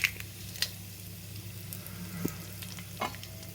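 Mustard seeds, cumin and crushed chillies tempering in hot oil, a quiet continuous sizzle with a few sharp pops and crackles scattered through.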